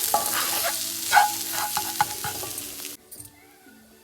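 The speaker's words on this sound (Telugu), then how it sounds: "కొంచెం ఫ్రై కావాలి." Ginger-garlic paste and green chili paste with salt and turmeric sizzle and fry in a pan, with scraping stirs and clinks over steady hiss, then the frying cuts off abruptly near the end, leaving faint clatter.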